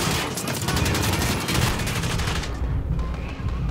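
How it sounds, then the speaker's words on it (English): Rapid gunfire erupts in the video game Call of Duty: Modern Warfare (2019), loud bursts of automatic shots rattling in quick succession, easing off slightly toward the end. "somebody's shooting at me."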